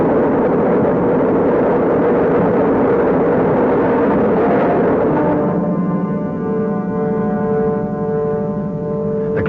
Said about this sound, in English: All engines are running.